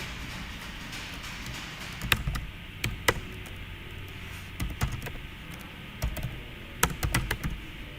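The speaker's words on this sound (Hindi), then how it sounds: "अब मैं क्या करता हूँ कि यहाँ पे चौथी एंट्री करता हूँ" Someone types data entries on a computer keyboard, short bursts of crisp key taps separated by pauses, close up over a faint room hiss with no talking.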